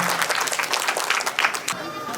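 Applause from a crowd at a Tambua Tasa festival: a brief, dense patter of clapping hands, moderately close, with a voice talking over it.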